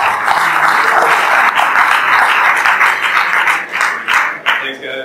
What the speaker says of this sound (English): a round of applause for our next speaker